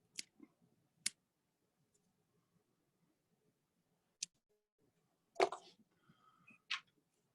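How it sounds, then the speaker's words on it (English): Fine scissors trimming material on a tied fly, a few sharp isolated snips scattered through quiet, close and faint, with a soft rustle of handling near the end. "I'm going to take my finer scissors and we're going to clean that up"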